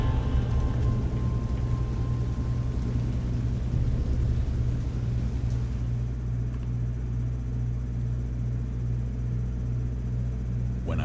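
Heavy, steady rain pours through a thunderstorm in the video game Dagon, with a low, continuous rumble of thunder beneath it and no voices.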